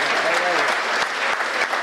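Audience at a Hindi poetry recital breaks into loud, sustained applause, a dense wash of clapping that fills the whole moment with no pauses.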